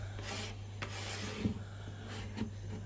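A plastic scraper is drawn across softened varnish on thin wood veneer, giving quiet, close rasping strokes in short repeated passes with a couple of slightly sharper scrapes, and no voices.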